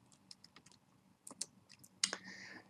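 Typing a command on a computer keyboard in AutoCAD 2016 LT: a short burst of quiet, close keystrokes, a few scattered light clicks followed by a sharper final tap near the end, with no talking.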